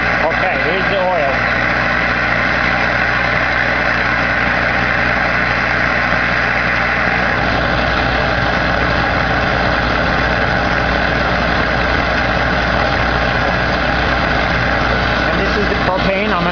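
Boysal waste-oil burner, lit with propane, roaring steadily on oil, a loud continuous low rumbling combustion drone heard up close that shifts slightly in tone partway through, with a voice speaking briefly over it.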